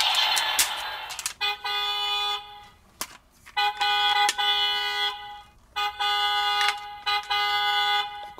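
A DX Boon Boon Handle toy from Bakuage Sentai Boonboomger plays an electronic horn effect, a bright buzzy tone repeated in several short bursts separated by clicks and brief gaps, close and clear after an opening whoosh.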